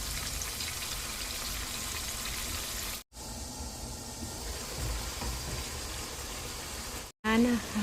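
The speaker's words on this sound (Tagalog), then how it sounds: "Ayan, piniprito na natin ang liver." Beef liver fries in hot oil in a home kitchen, giving a steady close sizzle with a brief break partway through.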